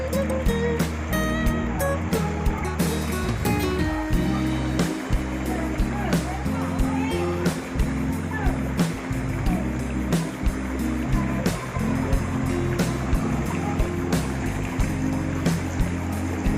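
Strong floodwater current surges across a road in Calasiao, Pangasinan, a constant loud rushing wash through the whole stretch, with someone speaking over it.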